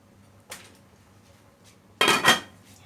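A spoon clatters twice against a pan as beef seasoned with ground black pepper is stirred, a brief scrape followed by a louder, longer metallic clink and rattle.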